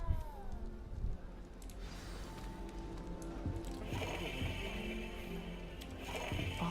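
Cat meowing in the video game Hogwarts Legacy, a few soft mews surfacing over a steady bed of game ambience and background music, fairly quiet and not far off.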